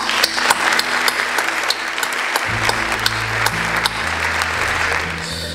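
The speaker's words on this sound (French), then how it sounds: "ce très gros succès mérite quelques applaudissements" A crowd claps steadily and loudly at an awards evening at the Trianon in Paris, with low musical tones stepping along underneath the applause.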